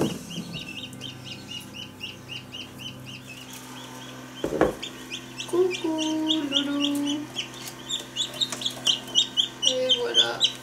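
Newly hatched chick in an incubator during egg hatching, giving repeated high, thin peeps throughout, with a brief knock partway and a person speaking softly near the start.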